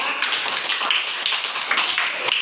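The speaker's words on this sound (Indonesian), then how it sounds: "tepuk tangan semua" A group of learners claps in a school lesson on computational thinking, producing a dense patter of hand claps that continues steadily for a couple of seconds.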